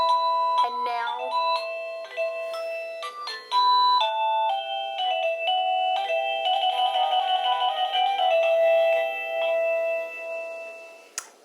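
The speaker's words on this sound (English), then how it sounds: "anyone ringing the bell outside the door will create the music inside" A Volcus V102 wireless doorbell receiver plays its chime tune indoors: a bright electronic melody of clear, sustained tones, loud and close, running continuously for about eleven seconds with no talking.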